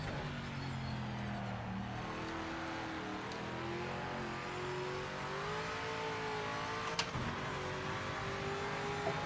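A big, heavy race car engine in a racing video game revs steadily, its droning tone rising and falling as it pulls, loud and continuous with no talk over it.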